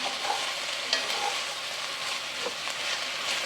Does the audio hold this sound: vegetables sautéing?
yes